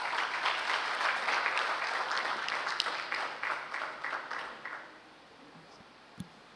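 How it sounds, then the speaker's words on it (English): Sustained applause from a crowd at a governors' forum, dense clapping that gradually thins and fades out, with a brief sharp knock near the end. "another round of applause for His Excellency, our host governor"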